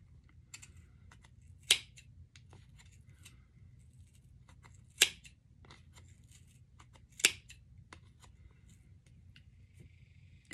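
Sharp scissors snip through acrylic yarn for a pom pom, a few distinct crisp cuts spaced seconds apart, with small rustles and handling sounds between them in a quiet room.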